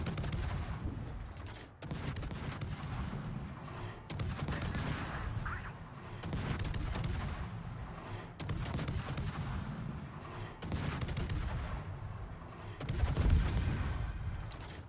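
Heavy naval gun salvos from a Kitakaze destroyer in World of Warships, a series of booming high-caliber volleys roughly every two seconds, each with a long rumbling tail, loud and close.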